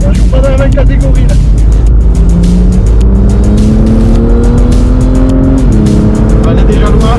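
BMW M2 CS racing a McLaren on the Magny-Cours circuit during a track day, the engine note droning steadily and loud, climbing in pitch through a gear with tire noise and a faint squeal, alongside talking.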